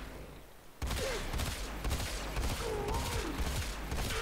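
Rapid bursts of Battacor rifle fire in the Warframe video game, a dense run of sharp repeated shots starting abruptly after a quiet moment and continuing steadily, with brief whooshing effects.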